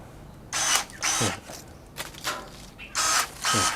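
A cordless PUMPKIN electric pruning shear snips small branches in a series of short, sharp motor bursts, about six quick cuts with brief pauses between them, close to the mic.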